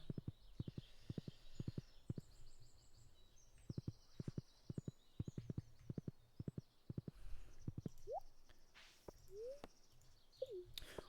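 Horse hooves in the video game Stardew Valley clip-clop in quick, regular pairs of sharp knocks, fairly faint, with a few chirpy sounds and a light ambient bed behind.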